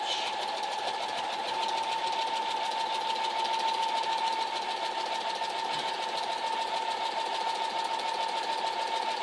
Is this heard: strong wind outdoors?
no